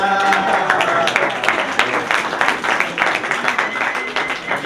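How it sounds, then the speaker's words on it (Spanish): Students clapping during a lecture on study techniques, a steady round of applause from a modest audience lasting several seconds, fairly close and without speech. "Los que aplaudieron son una actitud activa"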